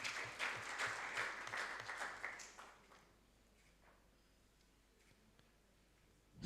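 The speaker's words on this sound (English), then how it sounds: "Let's give a big round of applause" Applause at a campaign launch signing, a short burst of clapping from a gathered group that is fairly quiet and fades out after about three seconds, leaving near silence with a few stray claps.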